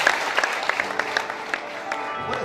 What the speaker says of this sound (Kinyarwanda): Maze ndore mwese ubu mwamuhaye amashyi